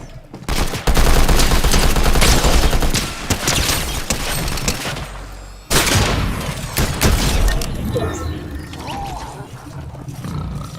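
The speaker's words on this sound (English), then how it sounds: "I'm being shot at." Loud automatic gunfire rattles in Fortnite, a dense sustained volley that breaks off then resumes for a shorter burst before fading into scattered game sounds, with no talking.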